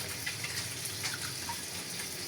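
Running water splashes steadily from a tap as leafy greens are washed at a sink, a constant close gush without talk.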